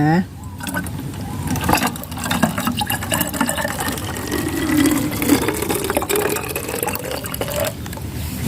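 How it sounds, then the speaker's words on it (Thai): Plain water is poured into a homemade insecticide mixture for garden plants, a steady close pouring and filling sound under someone talking. "แล้วเราก็เติมน้ำนะคะ น้ำเปล่าของเรานะคะ ผสมไปด้วยนะคะ"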